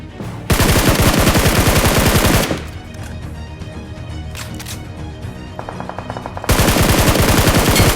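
Rapid automatic P90 bursts fire in a shooting video game: a long loud rattling burst, a quieter stretch of distant shots, then another full close burst at the end.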